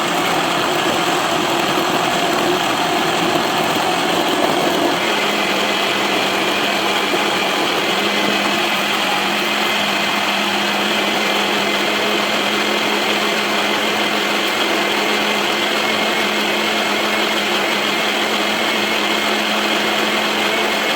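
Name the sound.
blender blending fruit smoothie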